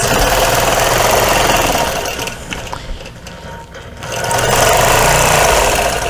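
A sewing machine stitches quilting lines across a triangle of a patriotic quilt block, its rapid mechanical whir loud and close, dropping away briefly midway before running at full speed again.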